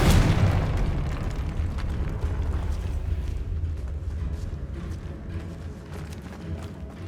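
In Hogwarts Legacy, a Confringo fire spell detonates inside a tomb, a heavy boom that hits hard at once and then rumbles and slowly fades over several seconds.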